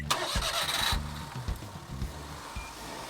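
A small Suzuki Sierra Jimny 4x4 engine cranks with a few quick turnovers, then catches and settles into a low, steady idle close by.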